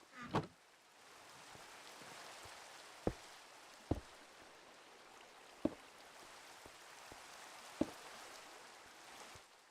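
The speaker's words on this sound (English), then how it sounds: "It's raining." Rain falls steadily in the Minecraft video game, a soft continuous hiss with a few sharp clicks popping out over it, no voices.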